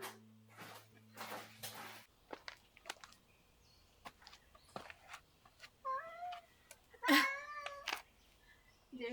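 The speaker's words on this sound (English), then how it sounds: "There is a cat here." A cat meows several times indoors in short, close, separate calls, with some drawn-out and wavering. Softer knocks and rustles come between the calls, and a low hum fills the first two seconds.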